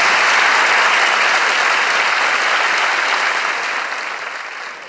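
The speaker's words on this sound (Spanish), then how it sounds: "el público les regala este aplauso para ustedes" Studio audience applause on a Chilean comedy talk show, loud, dense and steady, with no talking over it, easing slightly toward the end.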